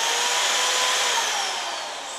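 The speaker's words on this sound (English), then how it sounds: "Tied a rope around the drill trigger so that it's automatically on." An electric drill, its trigger tied on with rope so it runs by itself, gives a steady high-pitched whine that holds loud and even, then eases slightly toward the end.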